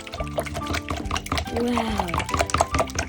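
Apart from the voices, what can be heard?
rinsing a paintbrush in water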